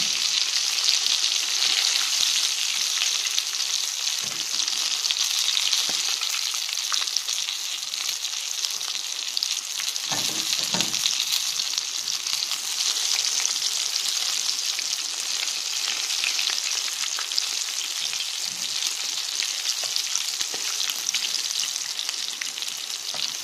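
Chicken wings deep-frying in hot oil give a close, steady, dense sizzle and crackle that runs unbroken throughout, with no voices.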